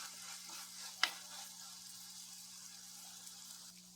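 Onions and tomatoes sauté quietly in a pan: a soft, steady sizzle with one sharp utensil clink early on.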